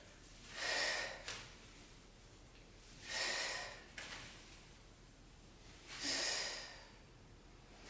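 Three slow, audible exhalations through the nose and mouth during a yoga trapeze exercise on parachute-fabric slings, each breath a soft rushing puff spaced a few seconds apart, close and quiet with nothing else in the background.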